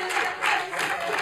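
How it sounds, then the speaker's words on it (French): Brief burst of clapping and applause from people seated at a Montpellier city council meeting, a steady patter lasting about a second with a faint voice mixed in. "Merci de m'applaudir, hein, la liste citoyenne, c'est gentil."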